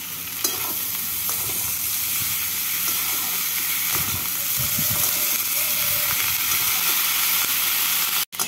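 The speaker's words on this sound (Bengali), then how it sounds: "আলু বেগুনগুলোকে পেঁয়াজের সাথে একটু ভেজে নিচ্ছি।" Potatoes and eggplant fry with browned onions in a pan, a steady close sizzle with repeated scraping stirs, ending in a sharp clatter.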